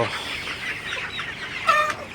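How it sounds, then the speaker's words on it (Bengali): Fifty-six-day-old Sonali chickens cluck steadily in a poultry shed in sweltering heat, a continuous busy chatter of the flock with one louder squawk near the end. "আমার সেটে তো মুরগিগুলা আসলে খুবই ভালো একটা ওজনে চলে আসছে"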